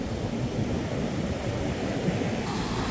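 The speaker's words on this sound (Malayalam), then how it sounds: "പതഞ്ഞു തുളുമ്പുന്ന തിരമാല ഇവിടെ ഈ കടൽ തീരത്ത് നിൽക്കുന്നവരുടെ കാലുകളിൽ തഴുകി തിരിച്ചു പോകുന്ന കാഴ്ചയാണ് നമ്മളിപ്പോൾ കാണുന്നത്" Foaming sea waves washing up on a Goa beach shore, a steady broadband rush of surf with wind noise throughout, no voices.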